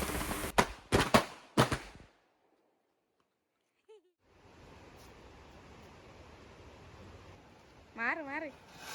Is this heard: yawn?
no